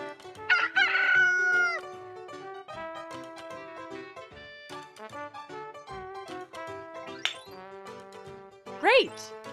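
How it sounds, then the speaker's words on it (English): A rooster crows loudly near the start, with clucks and a second short crow near the end, over light tinkling music. "Rooster."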